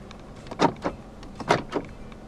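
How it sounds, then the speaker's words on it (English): Central locking on a 2013 Mercedes-Benz A 200 actuating with two pairs of short mechanical clunks, each a quick double thump, close and fairly loud with no talk. "Central locking."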